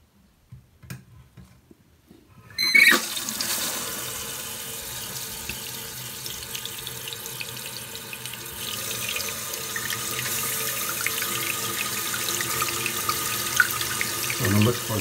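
A toilet fills with water after its supply valve is opened, starting with quiet clicks and handling, then a sudden continuous rushing hiss of flowing water that stays steady and close for the rest of the time.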